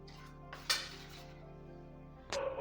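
A spoon stirs curd and spices in a bowl, making a couple of sharp clinks and light scraping taps against the side, with quiet stretches between them.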